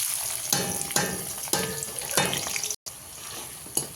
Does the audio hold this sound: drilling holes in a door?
no